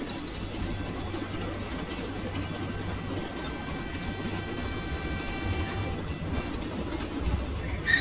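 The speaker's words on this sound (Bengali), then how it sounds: "ট্রেনটা আবার ঝকঝক করতে করতে ছুটতে শুরু করে।" A train rolls along the rails at night, heard from inside as a steady, moderate rumble with a faint rhythmic clatter running throughout and no talk.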